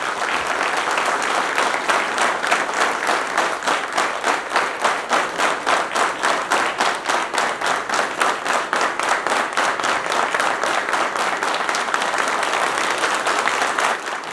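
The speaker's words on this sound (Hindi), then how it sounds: "आप जोरदार तालियां बजा के इनका सम्मान करें" Large audience at a Hindu religious gathering applauding loudly, a dense, sustained wash of clapping with a steady rhythmic pulse lasting throughout, close and full.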